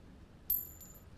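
The Disco Elysium coin pickup gives one bright, short metallic chime with a ringing tail, faint and alone over quiet background.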